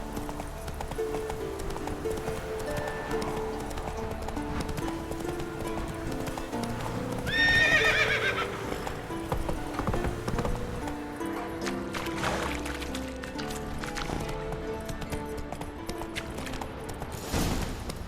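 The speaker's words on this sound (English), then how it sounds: "Whoa there, Roach." A horse in The Witcher 3 game gallops with steady, rhythmic clip-clop hoofbeats throughout and gives one clear whinny midway, set against a low ambient game backdrop with no speech.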